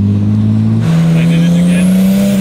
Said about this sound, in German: das ist der schönste Motorsound, würde ich fast sagen